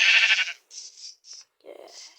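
A sheep gives a loud, close bleat, then a few shorter, softer calls follow in quick succession.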